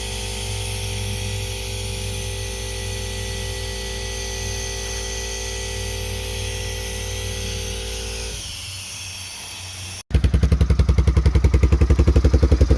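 A 1988 Honda Foreman 350 ATV with a freshly cleaned carburetor idles with a steady drone, falls quiet, then restarts at about ten seconds into a loud, rapid, close-up engine chug.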